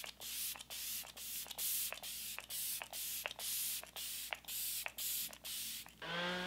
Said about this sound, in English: This is Flower Beauty Seal the Deal Hydrating Setting Spray.